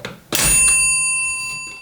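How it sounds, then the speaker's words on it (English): A spring-loaded hammer in a homemade mechanical timer gives a single sharp metallic strike on a bell, followed by a clear ringing tone that slowly fades over a second or so. "That's the part that hits the bell."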